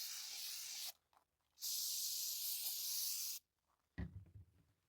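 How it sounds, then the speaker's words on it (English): Brake cleaner sprayed from an aerosol can onto a funnel in a shop before an oil change on a Ram 3500: two loud, steady hissing bursts of about a second and two seconds, followed by a brief clunk. "first thing I'm going to do is clean my funnel with brake cleaner"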